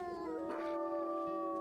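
A wolf growls and whines in WolfQuest, the low rumble running under steady ambient game sound for a short stretch.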